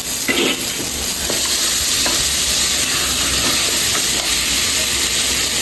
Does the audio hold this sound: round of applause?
no